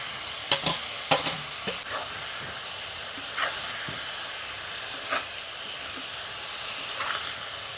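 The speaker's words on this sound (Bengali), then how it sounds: "এবারে এই মশলার মধ্যে দিয়ে দেবো পালং শাক" Spinach added to a spice mix and cooked on a home stove, a steady sizzling hiss with several sharp spoon scrapes and clinks of stirring, close and alone.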